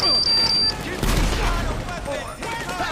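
Gunfire in GTA 5 during a police shootout, with bursts of shots and a heavy boom near the middle, loud and dense over game sounds and a speaking voice.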